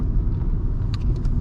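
A 2012 Volkswagen Polo 1.2 TDI BlueMotion diesel hatchback drives along, its low engine and road rumble steady and close from inside the cabin, with a few faint higher clicks near the end.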